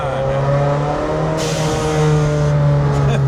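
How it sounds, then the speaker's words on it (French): A McLaren Senna's engine, tuned to 1,100 hp, drones steadily at close range in Monaco, its pitch rising slightly as it revs, with a sudden burst of turbo hiss partway through. "Waouh, comme il souffle le turbo et tout."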